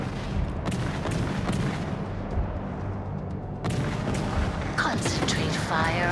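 Naval artillery booms and heavy gunfire from warships in the World of Warships: Legends video game roll out as a dense, continuous barrage. Voices and game sounds are mixed in on top.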